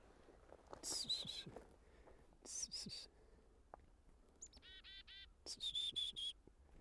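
Chickadee calls in a winter orchard: several bright, high chirping bursts spaced over a few seconds, with a quick run of buzzy notes in the middle, fairly faint against the quiet outdoor background.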